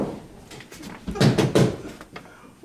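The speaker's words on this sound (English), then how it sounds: "Whence forth is that knocking?" Knocking at a door is played as a stage sound effect in a youth theatre performance of Macbeth, a few dull, heavy knocks close together over a quiet room.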